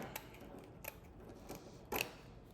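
Scissors cutting wreath material, four crisp close snips spaced roughly half a second apart, the last one loudest.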